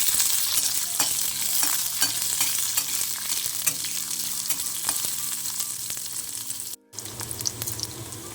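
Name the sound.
onion frying in pan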